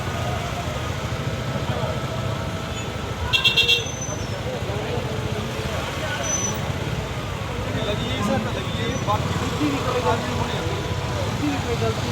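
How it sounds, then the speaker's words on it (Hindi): Busy street traffic with a steady roadway rumble throughout and a short burst of car horn honking around the middle, moderately loud and close, with occasional faint voices. "बड़ा ट्रैफिक लगेगा इधर।"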